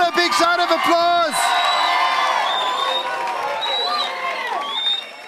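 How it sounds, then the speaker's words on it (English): Crowd at a youth church gathering shouting and cheering in praise, with high whoops and sustained voiced yells rising and falling over scattered clapping, loud and close, tapering off near the end. "Come on, give the Lord a big shout of applause."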